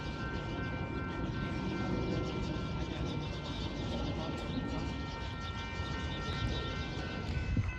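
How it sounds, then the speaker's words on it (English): Metra commuter train rolling along behind a freight train, a steady, moderately distant rumble of wheels and cars with sustained tonal hums and no voices. "a surprise freight train that this Metra is following"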